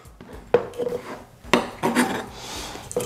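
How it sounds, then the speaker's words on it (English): Fresh ginger is rough-chopped with a knife on a board, heard close up as several irregular sharp thunks and scraping cuts spread over a few seconds, without any talking. "I'm just gonna cut the ginger into bite-sized pieces or smaller pieces so that they're easy to blend"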